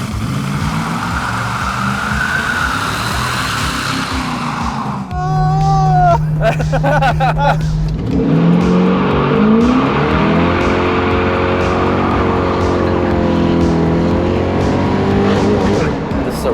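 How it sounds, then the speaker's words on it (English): A diesel-swapped Jeep Cherokee XJ doing burnouts, its engine droning steadily before a sharp change midway into loud, sustained revving with tire noise that holds near and continuous to the end. "So you could do some nice burnouts with this thing."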